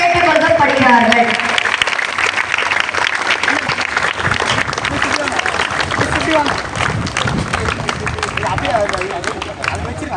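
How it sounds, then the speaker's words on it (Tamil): Students clap as an applause burst at an Olympic torch lighting ceremony, dense and steady for the full stretch, with crowd chatter and voices mixed underneath. "மாணவர்கள் அனைவரும் கரங்களை தட்டுமாறு அன்போடு கேட்டுக்கொள்ளப்படுகிறார்கள்"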